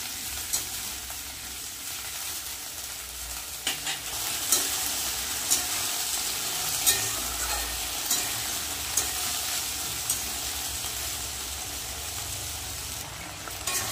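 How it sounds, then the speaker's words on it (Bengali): Okra and potato fry in oil in a pan with a constant loud sizzle, while a utensil stirs and scrapes them at regular intervals throughout. "ঢেঁড়স আর আলুটা ভালো করে একটু লাল লাল করে ভেজে নেব।"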